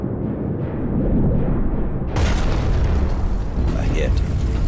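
A torpedo explosion from an old recording of a submarine attack in New York Harbor: a rumbling, muffled noise floor suddenly erupts into a loud, broadband boom about halfway through, then rolls on as a rough, sustained roar.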